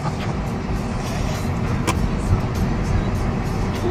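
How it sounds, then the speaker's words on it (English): A Tesla driving through an underground tunnel, with a steady, close, broadband road and cabin rumble that runs without a break. "an underground tunnel where you can take a Tesla from one end to the other"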